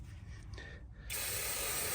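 Brake cleaner sprayed onto a car brake hub: a short, close hiss of aerosol that starts abruptly after a quiet moment and holds steady to the end.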